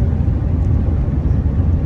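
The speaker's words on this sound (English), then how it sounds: "We are cruising just about 80 miles per hour at 2000 RPM" A 2003 GMC Sierra 2500HD SLE 4x4 with the 8.1 V8 and six-speed cruises at about 80 mph and 2000 RPM, giving a steady, loud low engine and road rumble with no talk.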